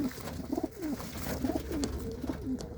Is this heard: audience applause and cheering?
no